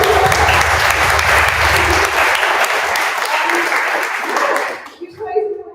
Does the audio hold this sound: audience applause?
yes